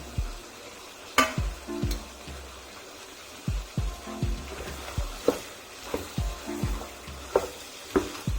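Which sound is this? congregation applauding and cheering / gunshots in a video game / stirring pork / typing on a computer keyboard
stirring pork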